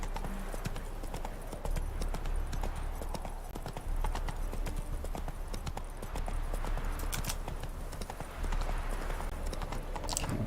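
The horse Roach's hooves clop in a steady, rapid rhythm as it moves in The Witcher 3: Hearts of Stone, continuous and fairly close, with no voices over them.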